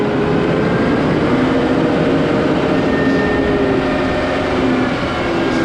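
Tractor engine running steadily at raised RPM under load as it moves forward, a loud continuous drone and rumble with no gaps, no talking heard.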